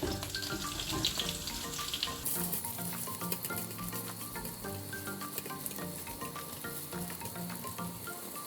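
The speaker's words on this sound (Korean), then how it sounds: "살라미랑 고추 이렇게 볶아주시면서" Salami and chili peppers frying in a pan for carbonara, a dense, continuous sizzle close up with scattered crackles and stirring scrapes, no voices.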